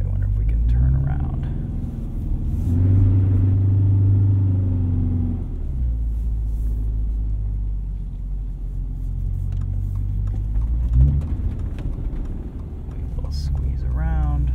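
A 2022 Subaru BRZ on Falken Winterpeak F-Ice 1 winter tires pushes through deep wet snow and slush, a steady low engine rumble with tire churn swelling around midway, while people talk inside the cabin.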